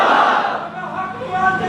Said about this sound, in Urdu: ذرا لگاؤ دونوں اکٹھے نعرے سبحان اللہ۔